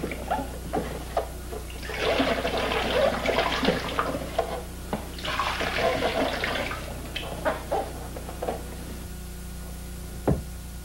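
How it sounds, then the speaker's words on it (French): Sulfite solution is poured back into a 4-litre container while beer-brewing equipment is sterilised: liquid splashes and gurgles in two longer pours of a few seconds each, with scattered small knocks, close and moderately loud. "remarquez que la solution de sulfite est remise dans le contenant de 4 litres"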